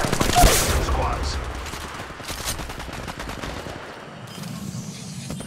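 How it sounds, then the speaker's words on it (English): Dense automatic gunfire in the video game Apex Legends rattles steadily and loud, with a heavy blast near the start. It thins toward the end, where a faint voice comes in. "Opening fire."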